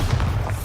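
A Bombarda spell explosion from the video game Hogwarts Legacy lands as a single deep, booming blast that rumbles loudly through the whole short moment, with no voice over it.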